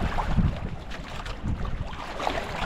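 Strong wind buffets a fishing boat out at sea during stormy, low-pressure weather, a loud rough rush of gusts over the mic with the low wash of water beneath.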